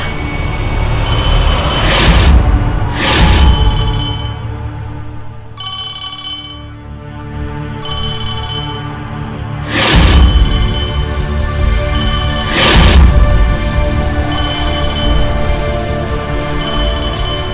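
A telephone rings over and over in loud, evenly spaced electronic ringtone bursts, with background music running underneath and no voices.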